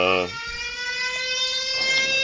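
A phone alarm from GTA V's online mode chimes in a steady run of bright electronic tones, starting loud and carrying on with a sustained ringing pattern, with a low rumble briefly underneath at the start.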